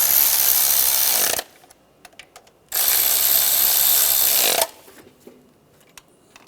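A power tool drives bolts on an engine bracket of a 1996-2002 Toyota 4Runner during knock sensor replacement, two loud, close bursts of about one and a half seconds each, separated by quiet pauses with faint clicks.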